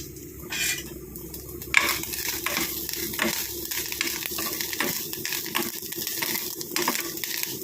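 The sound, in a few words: curry leaves sizzling in pumpkin erissery pan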